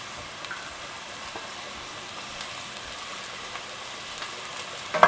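Thinly sliced onion and garlic fry in coconut oil in a pan, a faint, continuous sizzle with a soft clatter near the end.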